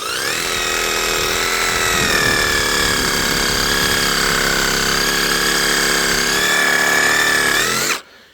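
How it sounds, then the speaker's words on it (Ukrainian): A reciprocating saw cuts through a thick pear tree root as its motor drones loudly and steadily for about eight seconds, then cuts off abruptly. "беремо сабельну і ріжемо кореняку"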